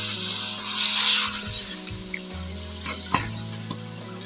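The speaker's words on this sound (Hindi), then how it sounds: "अब इसमें हम 1/2 kg दूध डालते हैं।" Half a kilogram of milk poured into hot golden caramelised sugar for kulfa ice cream, a loud rushing sizzle that settles into a steady bubbling hiss with occasional clicks, no talking.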